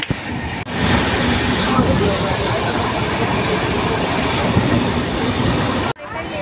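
The Kulik Express, number 13053, rolls along with a loud, steady rumble and hiss of wheels on track that fills the carriage interior. It cuts off abruptly near the end.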